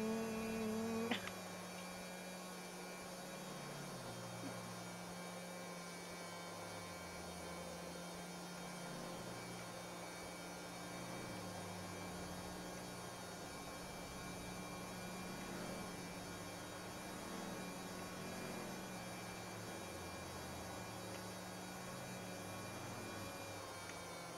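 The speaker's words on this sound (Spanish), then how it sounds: "Supongo que será una moto eléctrica." Weak electric motorbike motor in the cyberpunk video game ShadowPunkV2, a steady low electric hum with a faint high whine that drones on evenly and alone, after a brief louder burst at the start.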